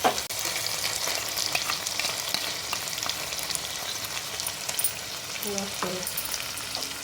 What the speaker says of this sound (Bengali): এখন আমি দইটার মশলাটা টমেটোর সঙ্গে ভালো করে একটু কষিয়ে নেব